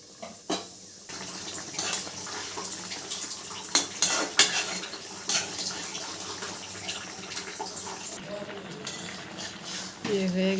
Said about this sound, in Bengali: এখন ঢাকনিতে ঢেকে দেব।